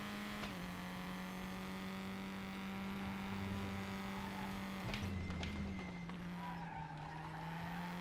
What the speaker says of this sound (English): I've maybe been revving it too long.